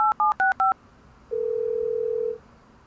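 A telephone dialed on speakerphone: a quick run of about five keypad tones, then after a short pause one long, steady, loud tone, with no talk.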